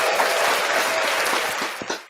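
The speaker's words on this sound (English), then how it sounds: "Can we get a clap on this motherfucker?" A small group claps on a live podcast stream, a short burst of clustered handclaps that thins out toward the end, fairly close and with no talk.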